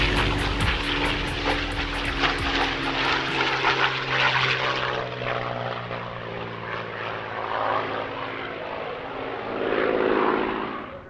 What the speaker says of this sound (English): Dan Griffiths flew an aggressive solo routine in P-51D Moonbeam McSwine.